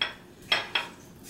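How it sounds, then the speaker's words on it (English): A makeup brush is rinsed in water, with a soft swishing and two quick light clinks against the container, close by. "So I'm going to just clean off my brush."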